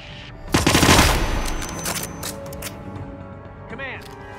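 Video-game gunfire from a police-style shooter, a loud burst of rapid automatic shots up front that fades into scattered reports, with voices talking over the action.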